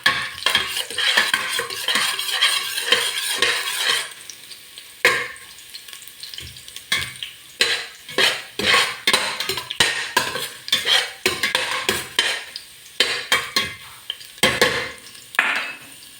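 Ginger sautéing in a pan until golden brown for tinolang manok: a steady sizzle of frying runs throughout, broken by repeated scraping and clinking of a metal spatula stirring against the pan, close by and with no talk.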